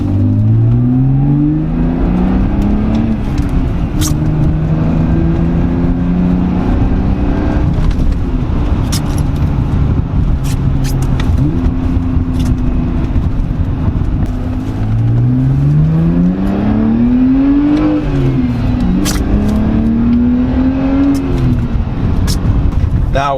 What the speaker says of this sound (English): with the exhaust valve open, there is a noticeable difference in the deepness of the exhaust note